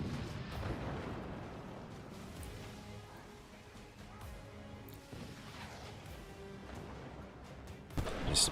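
Incendiary shotgun cannons firing in a modded strategy game, a rumbling series of heavy blasts and crackling explosions layered over continuous battle noise, ending in a louder burst.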